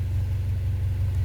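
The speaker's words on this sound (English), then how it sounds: "Alright guys, she's idling beautifully." A JDM-swapped Honda Accord engine idling steadily and smoothly, a continuous low rumble with an even pulse, close and fairly loud, with no voices.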